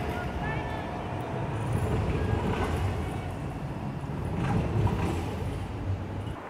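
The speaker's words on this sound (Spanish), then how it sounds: "Ahí va el tranvía número 25, sí, con destino Roger." Tram line 25 rolls past on a Brussels street, a steady low rumble of wheels on rails that swells and fades as it goes by, with a voice talking over it.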